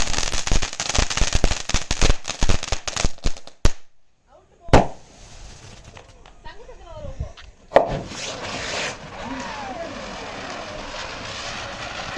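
A magic butterfly firecracker bursts in a rapid string of sharp cracks and pops, then goes quiet before two loud single bangs and a fizzing, whistling tail. A voice can be heard partway through.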